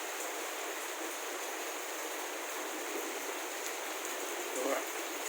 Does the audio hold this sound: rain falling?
yes